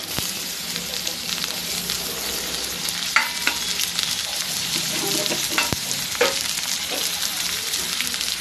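Chopped tomato added to softened onion in a hot pan while cooking a spiced pointed-gourd bhaji, with a steady sizzle and frying hiss and occasional scrapes and taps of a spoon stirring. Moderately quiet and alone.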